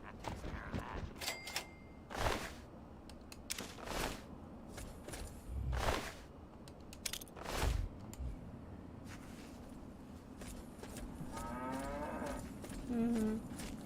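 Cows moo several times in a game, with low drawn-out calls amid creaking mechanical noises and sharp impacts, fairly loud and close, no talking over them.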